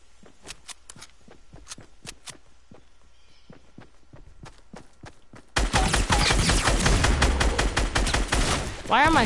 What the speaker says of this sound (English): Why are my shots so off?